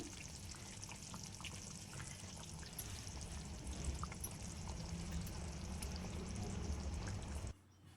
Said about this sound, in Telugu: ఈ ముక్కలను ఇలా బాగా బాయిల్ అయిన ఈ మసాలాలోకి ఒక్కొక్కటిగా ఇక్కడ వేస్తున్నాను.